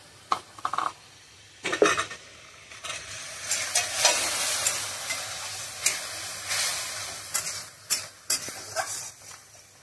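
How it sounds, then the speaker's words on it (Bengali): Ground spices sizzling and frying in a pan after a splash of water is added, with stirring scrapes and occasional clinks of a utensil against the pan, steady bubbling hiss building through the middle. "এবারে বাকিটা দিয়ে একটু জল দেবো মশলার ভিতরে, মশলাটা ভালো ভাজা হবে।"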